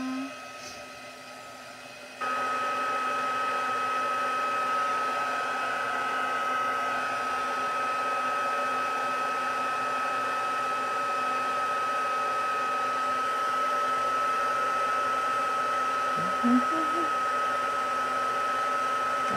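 A heat tool blows hot air over an embossed, stamped card. Its steady, loud whirring drone starts after a brief quieter moment and runs unbroken to the end.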